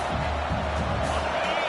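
Dense roar of a college football stadium crowd at a Mississippi State versus Oklahoma State game, a continuous loud wash of cheering voices with no single speaker standing out.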